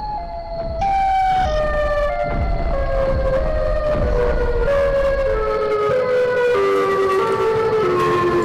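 A horror-style wail from the Siren Head creature, a loud, sustained siren tone that slides slowly downward in pitch, alone and close, with a brief voice-like shift near the start.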